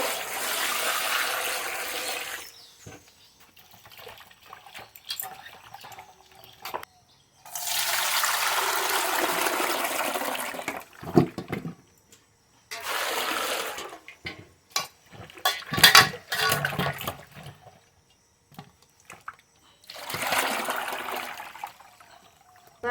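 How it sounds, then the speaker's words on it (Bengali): Running water pours over Himsagar mangoes from a home tree as they are rinsed before being made into a jaggery pickle, coming in several separate bursts of splashing and trickling with quiet pauses between them. "জল দিয়ে ধুয়ে নেব"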